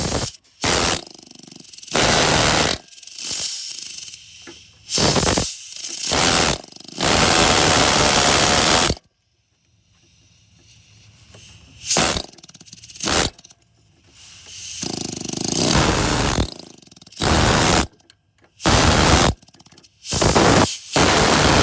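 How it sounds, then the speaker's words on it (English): A blunt-ended air chisel hammer pounds at a stuck water pump on a 2009 Ford Escape 2.5L, loud close harsh rattling in repeated bursts of one to two seconds with brief pauses and one longer quiet stretch midway. "so I'm going to try this air chisel hammer, kind of a blunt end on it, see if I can shake it loose"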